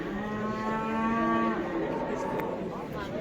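A cow with her calf lows with sustained, harmonic moos at a busy livestock market, the calls carrying over steady crowd and yard noise.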